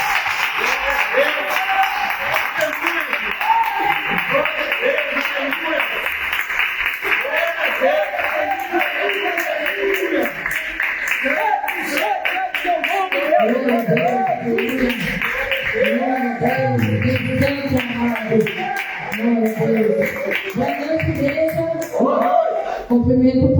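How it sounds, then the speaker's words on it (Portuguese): A church congregation at a Tuesday evening intercession service claps in sustained, even applause, with voices rising over the clapping throughout. "vamos receber a mulher de Deus, a nossa evangelista Eunice, aplaudindo e glorificando o nome do nosso Deus"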